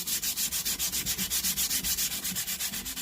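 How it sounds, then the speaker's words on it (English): Sandpaper of 120 grit rasps over a metal hand plane in quick, even back-and-forth strokes, about eight per second, close and steady with no talking. "I'm going up on metal with some 120 grit sandpaper"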